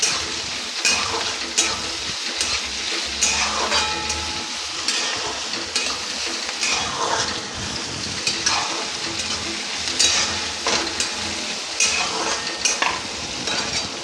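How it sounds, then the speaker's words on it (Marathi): A whole head of garlic added to a hot frying pan and stirred, giving a dense continuous sizzle with rhythmic scraping strokes, close and steady, with no talking. "आता त्याच्यामध्ये हा लसूण, एक गड्डी लसणाची मी टेचून घेतलेला आहे, तो टाकायचा, पुन्हा हलवायचं।"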